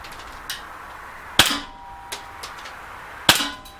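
An Umarex SA177 BB air pistol fires two sharp, loud shots a couple of seconds apart, with fainter clicks and taps in between, in a quiet setting.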